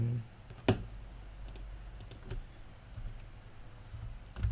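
A few sparse, faint clicks of a computer keyboard while code is typed, with irregular pauses between the quiet taps and one slightly sharper key strike.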